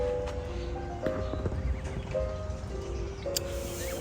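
Horse at a farm in Pattaya, Thailand, with a few hoof clops and faint snorts over steady outdoor ambience, rustling and distant birds, moderately close.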